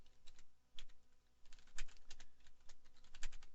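Fingers type on a computer keyboard, a quick irregular patter of close, crisp key clicks with brief pauses, quiet and unaccompanied by speech.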